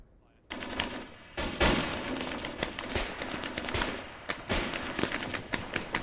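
Rapid bursts of automatic gunfire and scattered single shots crack through an Arma infantry battle, loud and close after a brief quiet opening, continuing in uneven volleys with no talk over them.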